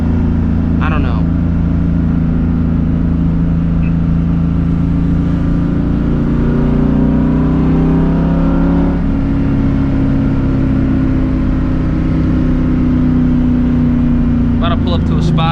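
A 2004 Ford Mustang GT V8 revving on a POV drive: a loud, steady engine drone with pitch gliding up and down as throttle rises and eases, close and continuous, with someone talking over it.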